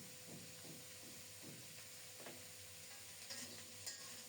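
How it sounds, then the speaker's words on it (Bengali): Cauliflower pieces fry in oil in a pan, a steady low sizzle with several soft scraping stirs spread through the first couple of seconds, heard close and alone. "এটাকেও নেড়ে চেড়ে আলুর মতোই ঢেকে ঢেকে খুব সুন্দর মতো ভাজা করে নেব"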